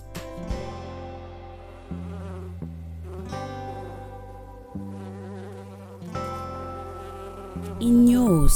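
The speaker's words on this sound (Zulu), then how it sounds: "Inyosi." A bee buzzes in a steady, droning hum that shifts in pitch over several seconds, close and moderately loud, with no talking.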